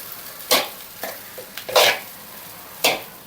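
Egg rice being stirred in a pan for a Telugu dish: a few brisk scraping, sizzling strokes close by, spaced irregularly with quiet gaps between them.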